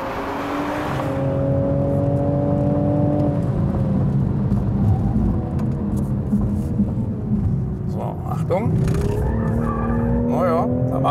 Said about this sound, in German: Ich möchte aber gerne noch mal die Kurvenpassagen ohne allem fahren, weil ich prüfen will, wie gut ist die Traktion.